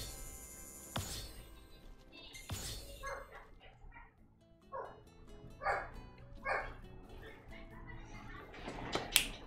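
Dogs bark and yip in Final Fantasy 15, several sharp medium-distance barks scattered across the scene among thuds and ambient game noise, with a couple of loud impacts early on.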